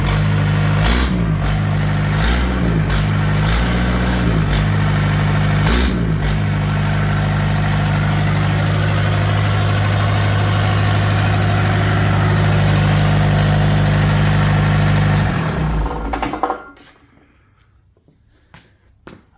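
A cold diesel engine, a 7.3 Powerstroke with a grid heater, cranks over several times and catches without hesitation, then settles into a loud, steady clattering idle before shutting off with a clunk into quiet.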